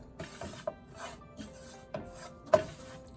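Roasted wheat flour, shredded coconut and cardamom powder stirred in a pan, giving soft scraping rubs and a few sharper clicks of the spoon against the metal, spaced irregularly with no talk.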